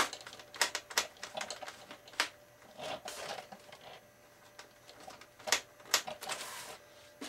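Screws being driven by hand into a GWS BN2 RC model airplane build, giving sharp, irregular clicks and scraping bursts close by, with short pauses between them.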